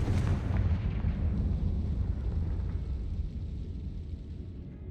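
A Confringo spell explosion in Hogwarts Legacy bursts in with a heavy, booming blast that rolls into a long, rumbling decay fading over several seconds.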